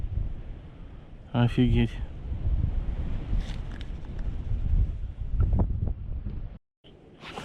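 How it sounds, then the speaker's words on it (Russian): Strong wind blows across a snowy riverside spot while someone fishes for dace, buffeting the microphone with a steady rough roar throughout. A voice speaks over it near the start. "Ничего себе ветер какой дует."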